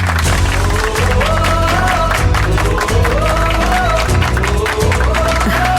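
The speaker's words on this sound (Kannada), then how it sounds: "ಇಬ್ರಿಗೂ ಸೂರು ಬೀಳೋ ಹಾಗೆ ಚಪ್ಪಾಳೆ ತಟ್ಟಿ ಬರಮಾಡ್ಕೊಳ್ಳೋಣವಾ?" Audience at an on-stage ceremony in a Kannada TV serial bursts into loud, continuous applause to welcome a couple, mixed with cheering and music throughout.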